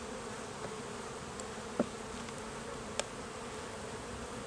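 A lone bee buzzes close by near a beehive, a faint steady drone with a couple of brief louder passes, no talk.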